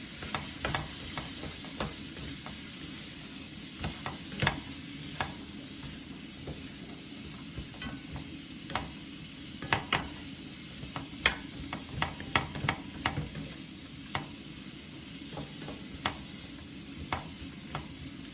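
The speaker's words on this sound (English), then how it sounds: "throw in the butternut squash, okay? And start mixing around." Butternut squash with garlic fries in a pan while being stirred, a continuous sizzle broken by scattered clicks and scrapes from the utensil.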